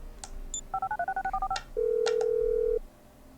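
A mobile phone is pulled up in the GTA V video game: a rapid run of short electronic keypad beeps, then one loud, steady tone lasting about a second, with no talk.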